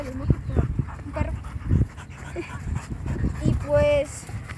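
A dog whimpers and pants outdoors near a lagoon, with short breathy bursts and a high whine close by, while people talk over it.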